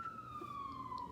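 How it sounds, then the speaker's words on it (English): An emergency vehicle siren wails outside, a single steady tone gliding slowly downward as it passes, faint and distant against a quiet room. "oh look, a siren. Of course that's happening right now."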